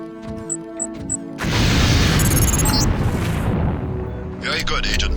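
LAM explosive from Deus Ex detonates during demolitions training, a loud sudden blast erupting after a few soft beeps and rolling into a long roaring, crackling tail, with a voice speaking over part of it.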